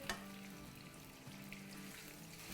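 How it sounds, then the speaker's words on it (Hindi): Potatoes frying in a pot for egg and potato biryani give a faint, steady sizzle under a low, continuous kitchen hum, with no voices. "बस इसे हम 2-3 मिनट फ्राई करेंगे, फिर आगे प्रोसेस करेंगे।"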